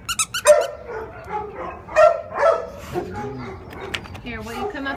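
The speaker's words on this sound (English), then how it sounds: "There's a dog walking right behind me" Dog at an animal shelter barking and whimpering in short bursts close by, with a person talking over and between the sounds.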